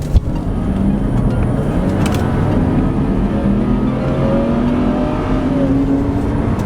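A BMW X3 with a 3.0L engine accelerates hard on a test drive, its engine note rising in pitch through the gears as a steady, close interior drone.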